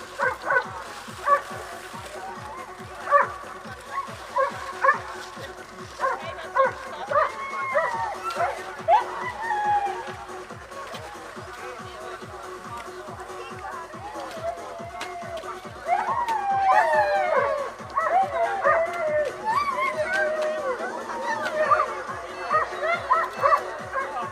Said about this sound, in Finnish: en tarkasti näe, mikä koira Tuukalla siellä on